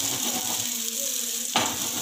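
Dahi cheese kebab frying in a pan over a slow flame, a steady close sizzle throughout with a brief louder burst of crackle near the end.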